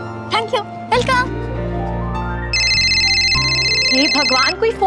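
A telephone rings in a Hindi TV serial household, a steady electronic ring tone sounding clearly through the clip over background music, with a voice speaking at the start and end.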